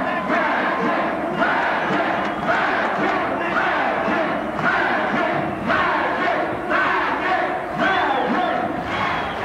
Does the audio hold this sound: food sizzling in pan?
no